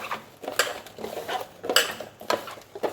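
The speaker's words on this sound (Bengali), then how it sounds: "মাংস ভাজা হয়ে গেছে, আর এখান দিয়ে আলু ভেজে নিব" Chicken pieces and potatoes are stirred in a pan of oil, the spatula clinking against the metal in sharp, irregular knocks at close range, with no talking.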